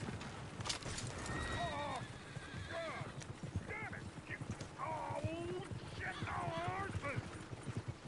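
Horses whinny several times over a steady clip-clop of hooves in the video game Red Dead Redemption 2, with voices and busy background noise throughout.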